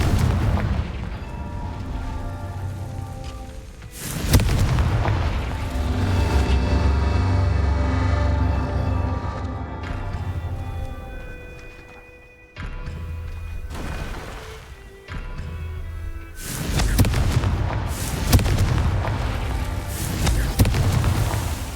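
Confringo spell blasts in the video game Hogwarts Legacy, several deep booming explosions with rumbling tails over a dense game score, some hits sharp and others rolling across the scene.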